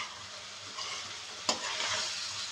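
Green chili stirred into a pan of coconut milk for laing, a broad steady sizzle with soft scraping of the spoon and one sharp clack midway, no talking.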